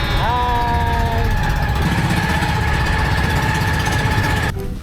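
The engine of a rented fishing boat runs steadily and loudly, a continuous close motor drone lasting throughout. A high tone glides in near the start, and the engine noise drops abruptly just before the end.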